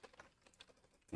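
Scattered, quiet taps on a computer keyboard during a live coding session, irregular light clicks ending in a louder burst.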